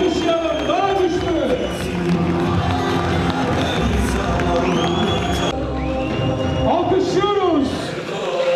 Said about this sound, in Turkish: Alkışlıyoruz. Güçlü alkışlarla.